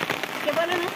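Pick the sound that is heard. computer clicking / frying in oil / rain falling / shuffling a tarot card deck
rain falling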